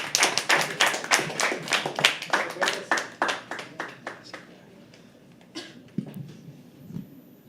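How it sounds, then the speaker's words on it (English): Audience at a live poetry open mic keeps clapping for a performer, a run of loud, fairly rhythmic claps that thin out and fade into scattered taps and a few faint thuds. "Keep clapping for Mr. Bhupendra Singh."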